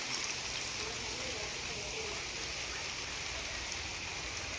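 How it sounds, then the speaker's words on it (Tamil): Heavy rain pouring down steadily near a roadside bus stop, a dense, even hiss that fills the space without letup. "கொஞ்ச நேரத்தில் பயங்கரமாக மழை பெய்ய ஆரம்பிச்சிருச்சுங்க"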